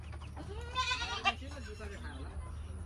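A goat with a cracked, bleeding hoof in a village gives one close, wavering bleat, then quieter bleating sounds over a low background hum.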